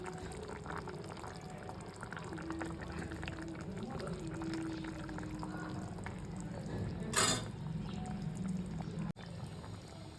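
Bengali fish curry broth at a rolling boil as fish pieces go in, a steady bubbling, watery hiss throughout with a brief, sharper splash near the end.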